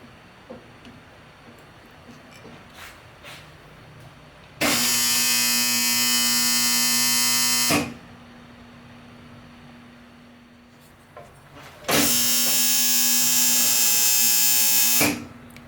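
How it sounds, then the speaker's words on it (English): Two loud, steady electrical buzzes from a Miller MPS 10 spot welder, each roughly three seconds long with a strong mains hum, separated by a quieter stretch of faint shop noise and small clicks. "Although the spot welder is working, it doesn't seem to weld it securely"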